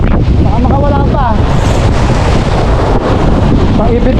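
Strong northeast monsoon wind roars across the microphone at sea aboard a small fishing boat, a loud continuous buffeting with a faint voice briefly heard underneath.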